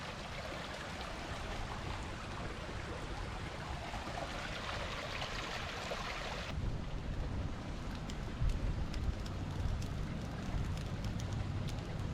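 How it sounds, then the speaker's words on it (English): A creek flows steadily on a rainy spring day at a camping spot, giving a soft, even rushing wash with no voices over it. "Beautiful creek, isn't it?"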